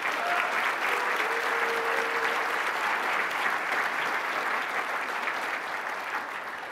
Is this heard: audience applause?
yes